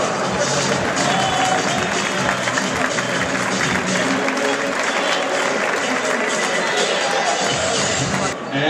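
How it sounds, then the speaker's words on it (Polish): A large crowd claps loudly and continuously in an indoor hall as a football team is presented at a charity tournament, dense applause with some cheering and chatter throughout. "Wielkie brawa."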